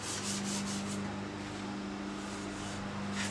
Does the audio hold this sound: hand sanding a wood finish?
yes